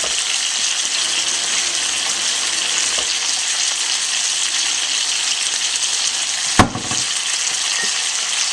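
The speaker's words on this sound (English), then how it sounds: "now let me wash my hands. And rinse off my cutting board real quick." Tap water running steadily while hands and a cutting board are rinsed in a home kitchen, a continuous broadband gush with one brief clunk partway through, no talking.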